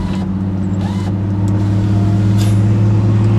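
A VW Golf VR6 engine revs with a loud, steady, near drone and low rumble, and a few faint crackling exhaust pops come through on a road just past a toll booth.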